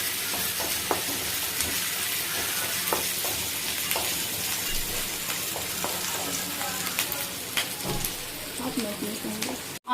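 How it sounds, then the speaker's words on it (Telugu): Onions sizzling and frying in a pan of oil for a dry fish and drumstick tomato curry, a steady crackling hiss with occasional spits and stirring clinks, moderately close throughout. "ఆనియన్స్ అనేది నీట్గా ఫ్రై అయ్యాయి."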